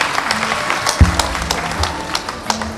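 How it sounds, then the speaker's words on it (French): An audience applauds a contestant at a spelling bee final in Benin, giving a steady burst of many hands clapping, with a low hum running under it. "Oui, merci de l'applaudir."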